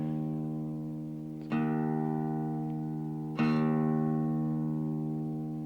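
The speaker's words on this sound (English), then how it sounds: "the low E or 6th string, and I am still down a semitone from last show" An electric guitar's low E sixth string, tuned down a semitone, is plucked twice as a tuning check. Each pluck rings out loud and clear, then slowly fades, with about two seconds between them.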